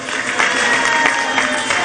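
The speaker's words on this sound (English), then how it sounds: "Shall we give them a big hand of applause?" A crowd at a National Democratic Congress gathering applauds newly sworn-in officials, loud dense clapping and cheering filling the space continuously, with voices mixed into the roar.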